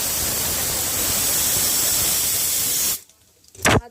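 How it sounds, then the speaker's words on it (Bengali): Food frying in oil over low heat in a home kitchen gives a steady, close hiss of sizzling for about three seconds, then cuts off. A short faint burst of noise follows. "ও যেহেতু খায় না তাই তেলেই ভাজছি। আঁচটা কম রেখে ভাজতে হবে"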